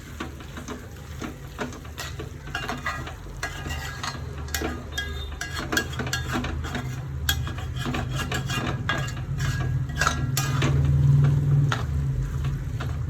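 A spoon scrapes and stirs beef fry in a pan, making steady rasping and scraping strokes with a few sharper clicks and a low sizzle underneath, close and fairly loud.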